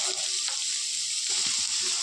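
Onions and curry leaves sizzle steadily in hot oil, a constant bright crackle close by, with faint stirring noises underneath.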